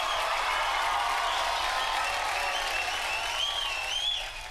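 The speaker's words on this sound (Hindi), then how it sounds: "जरा मेरे लिए तालियां" Studio audience applause at a Hindi comedy show, steady dense clapping with some cheering, loud and continuous throughout before tapering slightly at the end.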